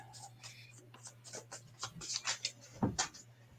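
Playing cards being shuffled during a WWE Superstar Showdown tabletop game, a run of quick crisp riffling bursts and soft taps, fairly faint, over a low steady hum with occasional murmured talk.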